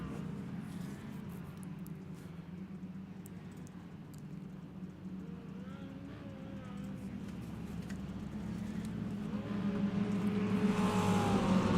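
Stock car engines at a green-flag race start in an Extreme Outlaw Stock Tour event, a dense, rumbling field of cars droning steadily, then swelling louder as they accelerate toward the end.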